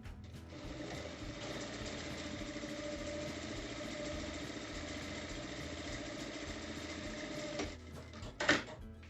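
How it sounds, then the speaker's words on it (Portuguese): A sewing machine runs steadily while stitching the lining of a slouchy bag, a continuous mechanical whir that stops near the end, followed by a brief handling clatter. "aqui eu já vou passar uma costura"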